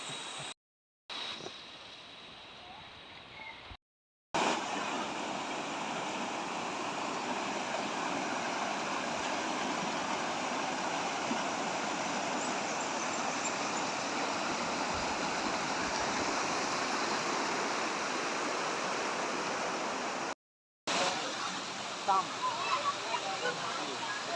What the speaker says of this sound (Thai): พาทุกคนมาชมบรรยากาศของน้ำตก